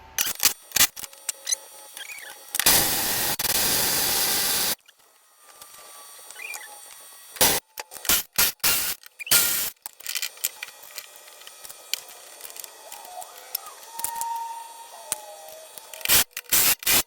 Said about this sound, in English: I went and sprayed the deck off, cleaned it off, got all the dirt and mud off of it